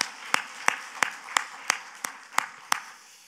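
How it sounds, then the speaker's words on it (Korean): A church congregation claps together during a worship service, about nine sharp claps at an even, brisk rhythm, fairly close and moderately loud, with no one talking. "하나님께 박수를 영광!"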